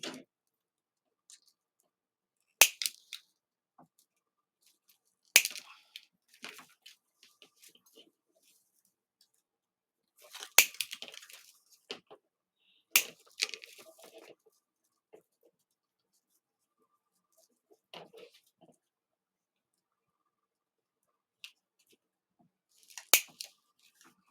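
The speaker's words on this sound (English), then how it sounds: "So I'm going to cut this down." Scissors snip dried baby's breath stems for a deco mesh wreath, sharp isolated clicks spaced a few seconds apart in a quiet room, with faint rustling of the stems between cuts.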